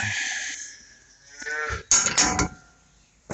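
A beef cow on a farm gives a loud, close, drawn-out moo that fades, then a second rougher bellow with a few bursts, standing alone without talk.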